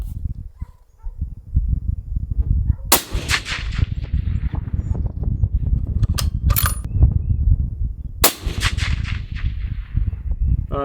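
Sniper rifle shots ringing off a distant steel target outdoors in wind, two sharp loud cracks spaced several seconds apart over rumbling wind noise, with small clinks in between.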